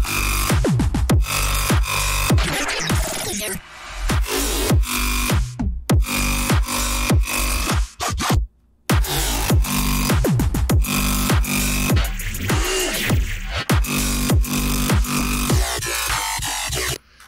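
Synth fills made in Serum and bounced to audio play loud and dense in a riddim-style electronic production, with choppy stutters, short gaps and dropouts, and no voices.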